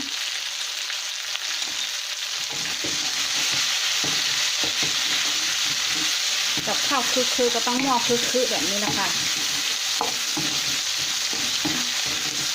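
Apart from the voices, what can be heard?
stir-frying vegetables in pan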